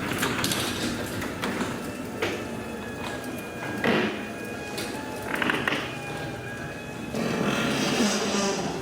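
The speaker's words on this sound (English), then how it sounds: "Closing the north garage door." A garage door closing under a Meross garage door opener, with a continuous grinding, rattling mechanical rumble and scraping surges over several seconds and a faint electronic tone partway through.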